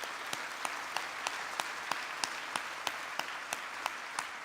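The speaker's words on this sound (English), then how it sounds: "we all need to give Jason and Katie a round of applause" A round of applause at an honors ceremony, soft and somewhat distant, with a steady clapping texture and a regular beat of sharper claps running through it.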